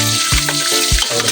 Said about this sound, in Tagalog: Ayan na, binaliktad na po natin ang pinirito. Ayan, ganda ng pagkapirito.